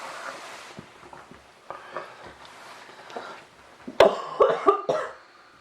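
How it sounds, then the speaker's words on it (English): A person with COVID coughs several times, with rough, breathy hacks building to a louder cluster of coughs near the end. "You got the coughs, Mum"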